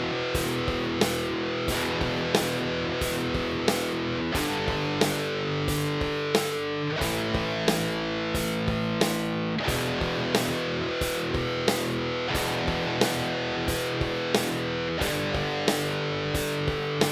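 Distorted electric guitar chugs through a rock song built on power chords at 90 BPM, sustained crunchy chords changing at a steady pace with light regular clicks marking the beat, played alone.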